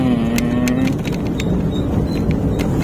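A Honda Brio 1.2 CVT hatchback accelerates from inside the cabin, a steady loud engine and road drone with a rising tone early on, heard continuously without talk.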